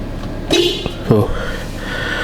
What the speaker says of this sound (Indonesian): bunyi klakson yang cupu banget gitu loh, nggak berwibawa sama sekali